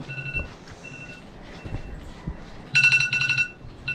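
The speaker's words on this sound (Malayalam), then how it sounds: "അപ്പൊ നമുക്ക് അലാറം അടിയുന്നുണ്ട്." Repeating electronic alarm beeps in short bursts sound at a bedside, fairly faint with gaps, then a louder cluster of rapid tones near the end over quiet room noise.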